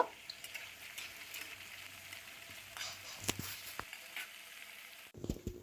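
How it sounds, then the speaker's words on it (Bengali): Potatoes, onion and garlic fry together in a pan, giving a faint, low sizzle with occasional scrapes and clinks of stirring, followed by a brief clatter at the end. "তো সেইভাবে আমি আলুটা ভেজে নেব।"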